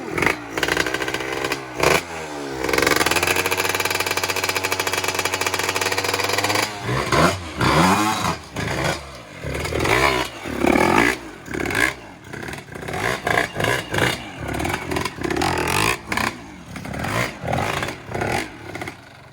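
Kawasaki KX 85 dirt bike fitted with a 125 engine revving hard: a loud steady high-rpm drone for several seconds, then a run of sharp, choppy throttle blips and rev bursts, close by with no talking.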